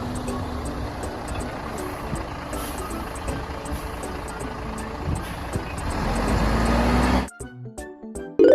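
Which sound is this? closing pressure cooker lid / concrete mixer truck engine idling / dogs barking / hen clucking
concrete mixer truck engine idling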